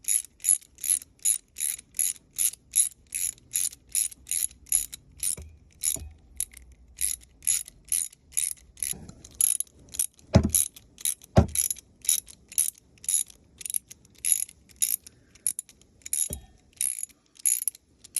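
A hand ratchet tightens steering nuts on a Rolls-Royce Silver Shadow, giving a close, steady series of crisp metallic clicks in quick strokes, broken by a few brief knocks and pauses.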